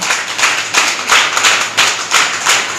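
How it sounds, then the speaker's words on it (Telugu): Congregation at a church service clapping hands loudly in unison, a strong rhythmic beat of about two claps per second, close and forceful, with no talking over it. "చప్పట్లు కొట్టండి గట్టిగా, గట్టిగా గట్టిగా చప్పట్లు కొడదాం"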